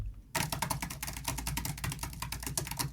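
Rapid, steady clatter of keystrokes on a computer keyboard, close and crisp, beginning after a brief quiet moment and continuing without pause, with no talking.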